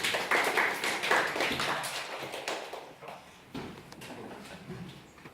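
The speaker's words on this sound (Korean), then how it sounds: "지금까지 인터뷰 내용을 소개해준 이 두 분들에게 박수 한번 부탁드립니다" A university class audience claps briefly for two presenters, lively at first and thinning out within about two seconds, followed by quieter scattered taps and room noise.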